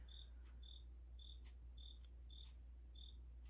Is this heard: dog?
no